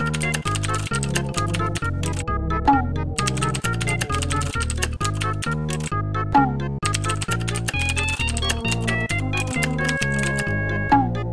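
Computer keyboard typing, a fast continuous run of crisp individual keystrokes with brief pauses between bursts, close and clear, with faint melodic tones sounding in the background.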